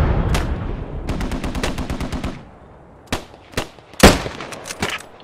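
Machine gun fire in the Post Scriptum video game, with a rapid burst of loud automatic shots followed by several separate heavier gunshots with echoing tails.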